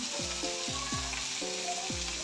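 Onion and chili frying in a pan for mori fish curry, a steady close sizzle with a few scraping stirs over it.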